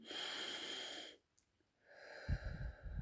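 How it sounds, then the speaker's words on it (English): Slow, deep breathing close to the mic: a long airy inhale, a brief quiet pause, then a softer breath with faint low rumbles at the end, calm and unhurried. "So slowly in."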